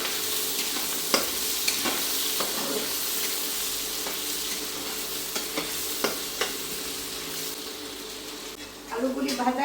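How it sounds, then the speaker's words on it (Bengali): Potatoes seasoned with salt and a little turmeric fry in a pan, giving a steady broadband sizzle with occasional stirring clicks and scrapes, close and continuous, with a brief rise in clatter near the end. "আলুগুলি আমি ভেজে নেব।"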